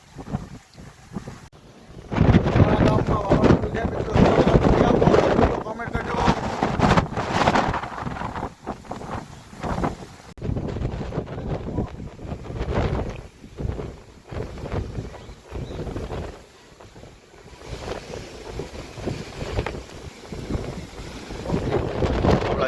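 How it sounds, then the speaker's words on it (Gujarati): Strong storm wind gusts in Gujarat batter the microphone in a loud, continuous roar that surges and eases, with a brief voice heard once beneath it. "જુઓ કેટલો પવન ચાલુ છે."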